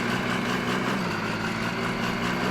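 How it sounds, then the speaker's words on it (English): A modded pickup truck engine idles in SnowRunner, a steady low droning hum with an even, unchanging note throughout. "Something about that engine note just doesn't sound right."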